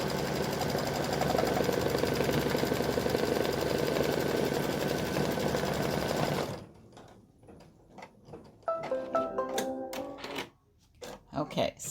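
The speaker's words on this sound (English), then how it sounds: "it's just stitching that same exact stitch out that it did for the placement" An embroidery machine stitches out the placement line of an appliqué pumpkin design, a dense steady mechanical chatter for several seconds, then stopping and giving way to quieter rhythmic ticking and clicks; a person talks over the later part.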